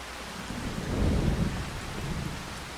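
Thunderstorm rain in Farming Simulator 25 on a Louisiana farm: a steady wash of rain with a deep rolling thunder rumble swelling through the middle, loud and close, no voices.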